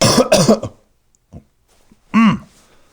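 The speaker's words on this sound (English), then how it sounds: "That cough was because I've been talking a long time and I haven't drinking any water." A few short, harsh coughs close to the mic, with quiet gaps and a softer throat sound between them.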